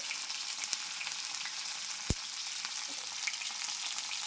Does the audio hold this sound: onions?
yes